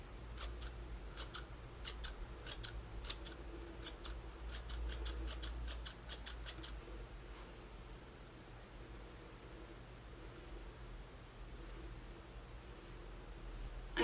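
Scissors snip repeatedly through hair as someone trims their own bangs, a run of quick crisp cuts in bursts over a soft hiss, then quiet rustling as the snipping stops.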